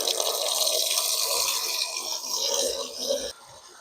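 Water runs steadily into a container during outdoor homestead chores, a continuous close splashing rush that cuts off abruptly near the end.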